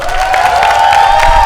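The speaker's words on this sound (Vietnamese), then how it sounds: "một tràng pháo tay nồng nhiệt cho team Chi Pu" A loud crowd at a street dance competition final applauding and cheering for a team, dense clapping and shouts under a steady sustained musical tone, continuous and close.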